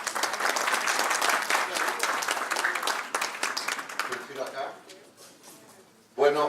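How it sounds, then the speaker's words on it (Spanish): Loud applause from an audience fills the first few seconds, fading gradually, then a brief burst of sound returns at the end. "pido que lo recibamos también con un aplauso"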